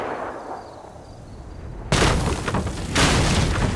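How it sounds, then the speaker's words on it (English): A gunshot in the video game Life Is Strange: True Colors: a sharp broadband blast that jumps out of a quiet background, followed about a second later by a second loud report, both close and filling the clip. "He really shot at us."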